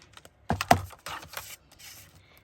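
Paper being trimmed for a small handmade window gift tag gives a few short, close scraping cuts and slides, with quiet pauses between strokes.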